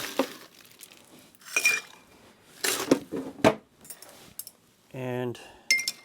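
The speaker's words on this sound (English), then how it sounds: "And so both of these get iced." Ice clinks and rattles into two glasses for Old Tom gin cocktails, with sharp glassy chinks and cutlery knocks spread across the moment, close up, amid brief bits of someone talking.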